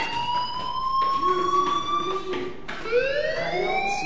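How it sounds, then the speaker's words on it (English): Fire alarm ringing in the video game Life is Strange, a loud electronic siren with rising and falling wailing tones that repeats, alone without talk. "do you hear that fire alarm?"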